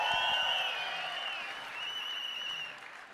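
An audience at the 4Life Convention 2022 applauds and cheers, a dense roar of clapping that swells at the start and then eases slightly, steady and fairly loud with no talk over it.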